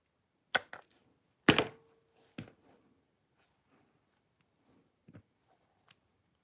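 Scissors cutting collage material shorter, a few sharp close snips and clicks spaced irregularly in a quiet room, the loudest cuts early and fainter ones later, with no speech.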